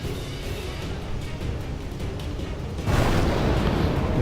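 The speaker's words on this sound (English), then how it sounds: "Hey, look, there's the explosions." Explosions in the video game Final Fantasy X, a steady rumbling roar that swells louder and more crackling about three seconds in, with no talking.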